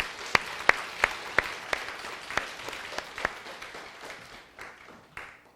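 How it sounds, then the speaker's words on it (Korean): A church congregation gives encouraging applause during a Sunday Thanksgiving service, starting as distinct sharp claps in a steady rhythm that soften and fade toward the end, heard in a quiet room with no talking. "우리 최 집사님 다시 한번 격려하는 박수."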